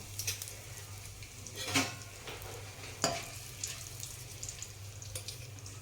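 Bay leaf pieces and asafoetida dropped into hot oil for chole, a faint soft sizzle with a few brief bursts of crackle and stirring, quiet and close.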